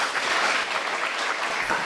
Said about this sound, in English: I do appreciate the applause